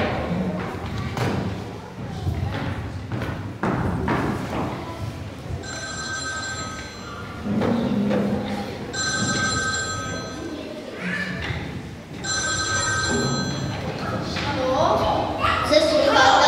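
A telephone rings in three separate bursts during a school Christmas play for a fifth-grade class, bright electronic trills heard amid stage thumps, footsteps and children talking.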